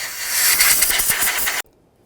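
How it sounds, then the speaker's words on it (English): A short, loud blast of compressed air hisses over the engine of a 2007-17 Ford Expedition as dirt is blown off. It lasts about a second and a half, then cuts off sharply. "let's go ahead and blow off the external areas where any dirt or debris may be"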